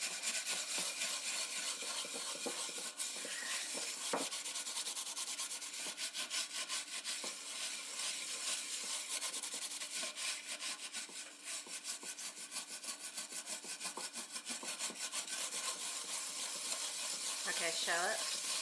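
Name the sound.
scrubbing a burned pot clean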